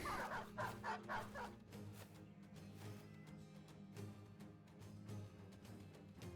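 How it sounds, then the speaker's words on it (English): A dog barking in the video game Battle Brothers, a quick run of rhythmic yips and barks at the start, then fading into a low droning battle soundtrack, faint overall. "Let's kill the dog if we can."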